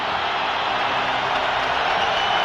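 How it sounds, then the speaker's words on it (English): Hockey crowd at Chicago Stadium during a 1987 Blackhawks–Red Wings playoff game, rising to its feet with a steady, loud, dense roar of cheering that holds unbroken throughout. "And the crowd coming to their feet now."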